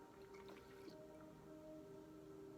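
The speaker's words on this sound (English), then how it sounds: "I had to take a little sip of water." Soft wet sounds of sipping water: a few faint drips and squishy slurps, close up and quiet, with no talking.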